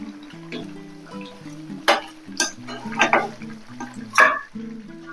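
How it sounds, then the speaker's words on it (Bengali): Puti fish dropped into a simmering sour mixed-vegetable curry, with several sharp splashing bursts over a low bubbling, close by and free of talk. "এবারে আমি মাছগুলো দিয়ে দিচ্ছি।"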